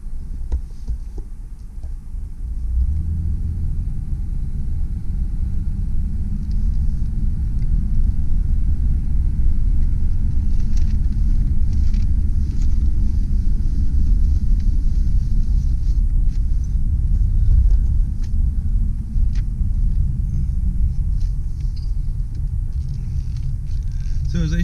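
A 1995 Ford Taurus on a test drive, its steady low engine and road rumble droning continuously near the cabin, with a faint hum and no voices.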